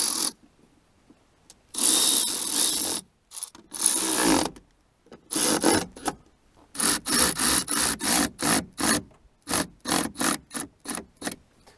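Bolts being tightened on the door check strap of a Mercedes-Benz W140 S500 with an armored door, heard as bursts of ratcheting and rasping tool strokes, a few long pulls followed by a quick string of short clicks, close up with no talking.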